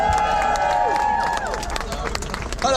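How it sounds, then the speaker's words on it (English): Crowd at a Downing Street cost-of-living protest applauding and cheering a speaker outdoors, loud clapping and whoops mixed with chatter and the trailing notes of a sustained tone. "Can you give him a round of applause, please?"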